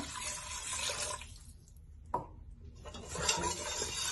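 Water splashes and trickles as it is poured into a pot for fish biryani, a steady liquid rush with a brief pause and a few drips partway through.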